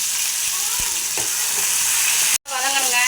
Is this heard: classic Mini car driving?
no